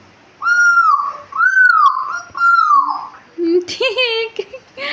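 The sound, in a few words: child whistling to imitate a bird call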